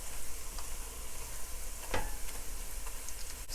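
Cumin frying in oil with courgette in a stir fry makes a soft, steady sizzle close by, with a couple of brief stirring scrapes and no talk.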